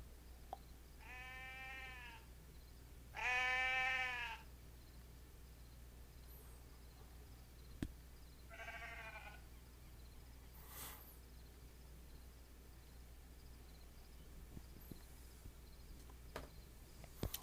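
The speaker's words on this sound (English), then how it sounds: "Sheep!" Sheep in the Second Life video game bleat in three short wavering calls spaced several seconds apart, quiet and slightly distant over a faint hum, with a few small clicks in between.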